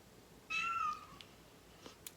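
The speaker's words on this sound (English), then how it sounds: "That's him meowing." A single house cat gives one clear, close meow, followed by a few faint clicks in an otherwise quiet room.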